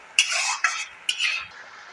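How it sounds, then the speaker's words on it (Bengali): Thick mango pulp being stirred in a pot, three short scraping strokes of a spoon dragged across the pot, close and fairly quiet, with no talking. "এটাকে ভালো করে এবার পাক দেবো"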